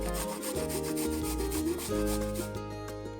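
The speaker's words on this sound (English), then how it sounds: "In this bowl, grate in 3 cloves of garlic" Three garlic cloves are grated into a bowl, making a steady, close, continuous rasping scrape that lasts throughout, with music playing underneath.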